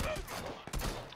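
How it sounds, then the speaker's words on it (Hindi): Gunfire in the PUBG video game plays as dense, loud overlapping bursts of shots, with a brief dip partway through. "मुझ पे ही गोली चला रहा है"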